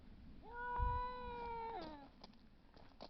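Cats fighting: a long, drawn-out yowling caterwaul that rises, holds, then bends downward before fading into quieter background noise, with a brief low bump near the start.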